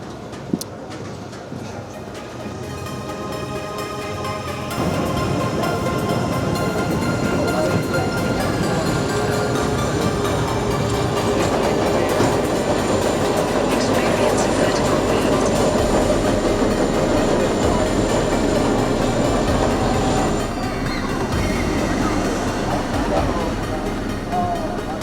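A large roller coaster, an aging ride, rattles and roars along its track in a loud, continuous clatter that swells and holds for over twenty seconds, with wind rush and faint voices mixed in.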